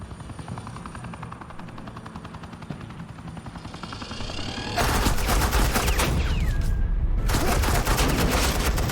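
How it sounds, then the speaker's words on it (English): Rapid automatic gunfire in the Batman Telltale Series video game, fast repeated loud bursts over a constant whirring drone, growing denser and louder partway through and continuing to the end. "Suppressing fire."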